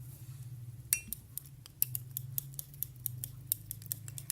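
A spoon mixes glycerine and rose water in a bowl, making quick, irregular metallic clinks and taps against the bowl over a low steady hum, close and fairly quiet.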